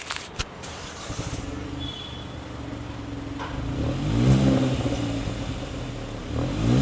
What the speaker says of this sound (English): let me show you what the N line sounds like